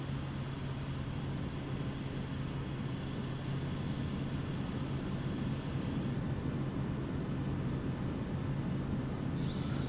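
A Kodiak propeller plane in a flight simulator drones steadily as it slows on approach with flaps lowering, a constant close engine hum with no talking.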